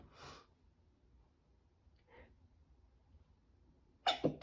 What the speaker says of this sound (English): I'm gonna sneeze, pardon me.